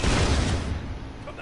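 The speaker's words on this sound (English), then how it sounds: "time for the assault rifle" An assault rifle fires in the stealth action video game CounterSpy. A loud, close burst of rapid gunfire fills the start and then fades into a rumbling tail.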